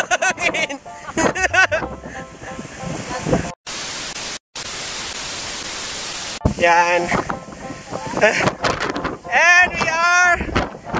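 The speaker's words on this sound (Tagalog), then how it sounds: "Sobrang lakas ng hangin." Strong wind roaring and buffeting the microphone in harsh noisy gusts in Batangas, with people talking and shouting over it in between.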